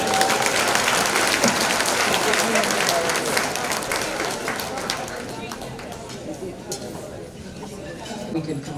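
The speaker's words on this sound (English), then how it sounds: "Give yourselves a round of applause," An audience at a University of Guyana alumni gala in Washington gives a round of applause. Dense, lively clapping fills the room and gradually thins out, with voices chattering underneath.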